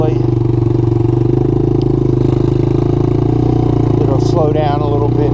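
A Suzuki LT80 ATV fitted with a 125cc Kymco manual-clutch engine idles steadily and close up, a continuous even putter throughout, with a voice briefly speaking over it near the end.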